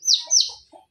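Two high, descending peeps from a young blind chicken chick, close and clear, followed by a softer faint chirp.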